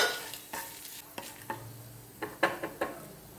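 Mustard seeds, garlic, curry leaves and dried chillies sputter in hot oil for a tempering, a close crackling sizzle punctuated by sharp pops and a few utensil clinks, with no talking.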